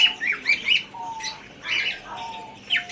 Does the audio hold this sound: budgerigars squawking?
yes